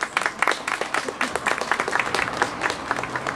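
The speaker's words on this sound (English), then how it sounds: "Give yourselves a clap, please" Audience in Tranås applauding together, a dense patter of many hands clapping at a steady level throughout.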